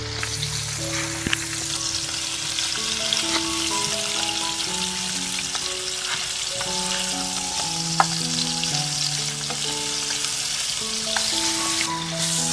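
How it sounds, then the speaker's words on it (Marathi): Goan prawn chops shallow frying in a pan of oil, a steady dense sizzle running throughout with occasional faint stirring or scraping, no voices. "थोडें तेल घालून आनी हें शॅलो फ्राय करून घेवपाचें."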